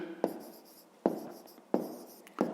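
A pen scratches across paper in four short strokes, each opening with a tap and trailing off, close and clear with no talk, while a fifth-grade maths exercise is written out.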